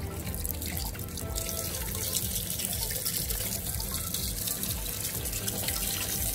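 Tap water runs steadily into a sink as items are rinsed clean of soap, a continuous close splashing stream with no pauses.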